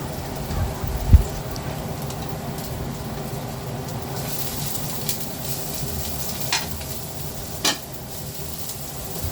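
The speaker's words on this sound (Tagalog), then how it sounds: "gigisa muna natin mabuti yung mga pangunahing sangkap na ito" Garlic and main ingredients for a pampano fish dish sautéing in a pan, a steady low sizzle with stirring scrapes and a few sharper knocks of the utensil, moderately close and without talk.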